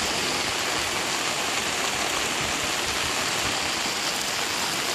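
A waterfall pours in a steady, dense wash of rushing water, constant and fairly loud with no pauses and no voices.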